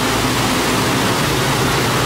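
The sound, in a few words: paddleboat paddle wheels churning through water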